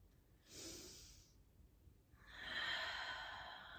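Heavy breaths during a power yoga flow, a long exhale or sigh followed by a louder, sustained rushing breath, close and alone without speech.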